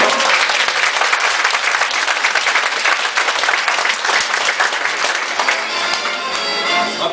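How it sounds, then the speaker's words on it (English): Dense, steady applause from a fashion show audience fills the room, loud and continuous throughout with no pause. "Big round of applause."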